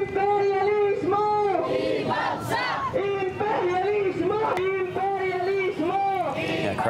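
Protest crowd outside the U.S. Embassy in Manila chanting in unison, loud rhythmic shouted slogans that rise and fall in repeated phrases throughout.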